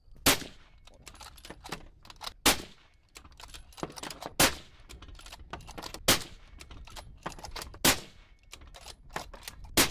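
A suppressed firearm fired during a test, giving several sharp, loud reports spaced roughly two seconds apart, with softer clicking and mechanical ticks filling the gaps between shots.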